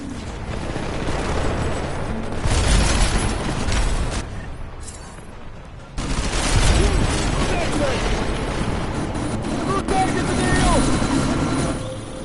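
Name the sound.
helicopter in Deus Ex: Mankind Divided video game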